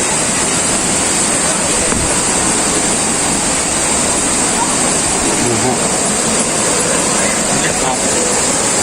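Ton Phrae Thong waterfall in Phatthalung pours with a steady, loud, close roar of rushing water that fills the whole scene without a break.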